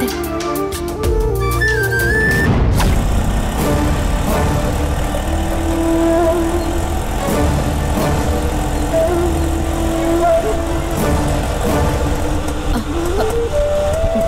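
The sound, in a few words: car engine running while driving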